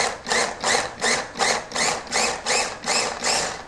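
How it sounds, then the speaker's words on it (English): Food processor chopping black beans for bean burgers, sounding in about eight rhythmic whirring pulses, each a short grinding burst with brief gaps between, close and moderately loud with no talking. "In a processor, you're going to take about 3/4 of your beans and process them down."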